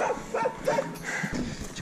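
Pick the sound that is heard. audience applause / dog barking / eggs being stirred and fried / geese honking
dog barking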